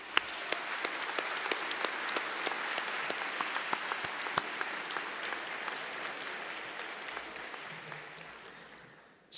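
Sustained applause from a large audience at a Central Washington University graduate hooding and commencement ceremony, a dense steady wash of many hands clapping for about nine seconds before cutting off.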